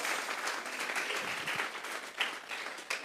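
A church congregation claps together during a Sunday service, a dense, steady patter of many hands at moderate distance with a few sharper claps standing out, and no talk over it.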